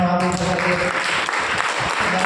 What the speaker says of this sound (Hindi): थोड़ी जोर से ताली बजाओ सब एक साथ दोनों हाथ ऊपर करके